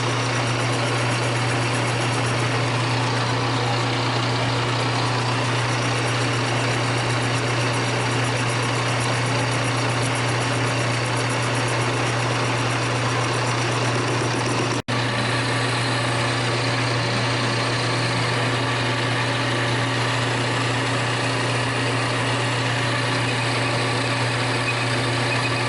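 A lathe turns down a steering part held between centers for a 1929 roadster pickup, giving a steady, continuous machine hum with a constant low drone and a broad whirring wash, with no talk.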